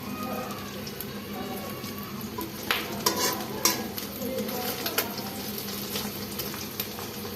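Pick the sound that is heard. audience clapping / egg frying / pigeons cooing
egg frying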